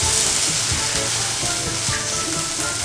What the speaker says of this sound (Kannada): ನಾನು ಮೊಟ್ಟೆನ ಹಾಕ್ಕೊತಾ ಇದ್ದೀನಿ